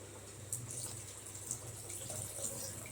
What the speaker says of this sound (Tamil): இன்னும் கூட கொஞ்சம் வாட்டர் வந்து நம்ம வந்து ஆட் பண்ணிக்கலாம்.